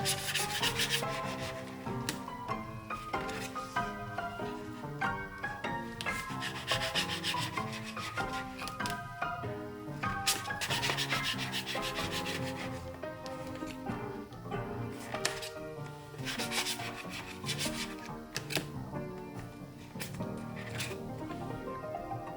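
Steady scraping and rubbing of a hard acrylic plate, with repeated long pushing and pressing strokes and small ticks, close and fairly quiet.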